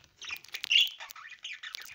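Several small birds chirp and twitter close by in quick, busy bursts with brief pauses between.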